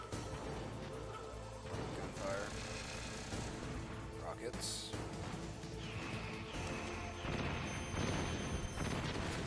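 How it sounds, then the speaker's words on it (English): Rapid gunfire and booming rocket blasts from Metal Gear Solid crackle continuously, with sharp bursts and explosions layered over a dense, busy background. "Gunfire. Rockets."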